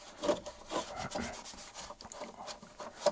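Dirt and grime being scrubbed from the worn interior of a Freightliner FLD truck, a dry rubbing and rasping sound in short repeated strokes, close and moderately loud with no talking.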